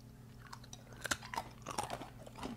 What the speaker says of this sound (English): It's a hard candy, but let me tell you, it melts in your mouth. It's delicious, crunchy.